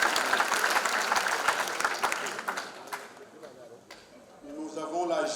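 A gospel concert audience breaks into loud applause and acclamation. The dense clapping thins out over a few seconds, and then a voice starts speaking into a microphone as the applause fades.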